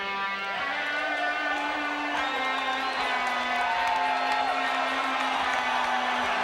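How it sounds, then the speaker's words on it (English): A dense arena crowd at a 1996 UFC event in Augusta roars in a sustained ovation, cheers and whoops swelling steadily throughout without a break. "listen to the ovation from the crowd here in Augusta"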